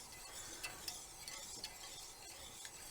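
Spoon stirring melting butter in a warm pan for hollandaise sauce, a soft continuous scraping with a faint sizzle and a few light taps against the pan, quiet and close with no talk.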